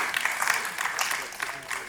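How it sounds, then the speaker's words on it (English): Conference audience applauding the moderator of a panel on the next wave of electronics, a dense steady wash of clapping from a hall crowd. "Let's have a huge round of applause for them, ladies and gentlemen."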